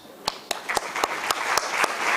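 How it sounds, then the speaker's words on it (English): An audience at a women's leadership conclave in Indore applauds as panelists are welcomed to the stage, with sharp individual claps at first that thicken into steady applause. "Let us all, with a thunderous round of applause, welcome our esteemed panelists"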